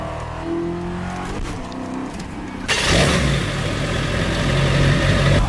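A drag-race car engine idles with a low, uneven burble, then abruptly roars into a loud, sustained rev that holds to the end, with no talking.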